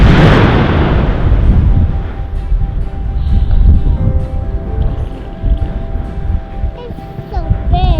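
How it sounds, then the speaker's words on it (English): Vanuatu volcano erupting, with a loud opening explosive boom that decays into a continuous deep rumbling roar, other faint sounds scattered over it. "the volcano really started to come alive. There was a constant orange glow, and you could see the explosions really well."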